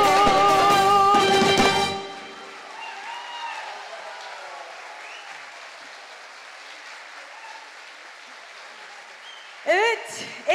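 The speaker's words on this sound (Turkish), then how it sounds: "Kocaman kocaman alkışlar." Music ends with singing, then a concert audience at a solo performance breaks into sustained, fairly soft applause that carries on steadily in the hall until a voice briefly cuts in near the end.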